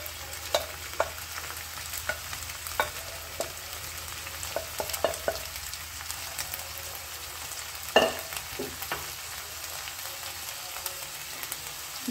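Cooked rice is stirred into a hot pan for Melukote temple-style prasada, producing steady scraping and soft sizzling with scattered spoon clicks, close and moderately loud throughout, with no talking.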